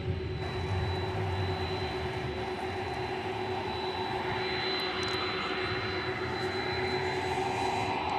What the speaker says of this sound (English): this plane went a little too far up the taxiway, missed its turn